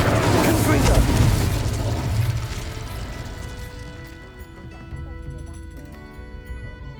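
Confringo and Incendio fire spells blast in Hogwarts Legacy, a loud booming burst up front that rolls and decays into a softer rumble with lingering ringing tones.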